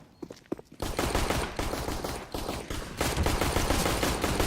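Gunfire from a pistol round in the game CS:GO: a few quiet clicks and steps, then a sudden dense burst of rapid, overlapping shots that continues loud and unbroken.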